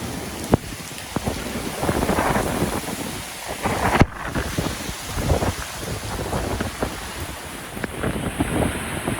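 Strong Hurricane Sally wind roaring without a break, a dense broadband rush with buffeting gusts and mic wind noise, plus scattered cracks and thumps from debris, loud and close throughout.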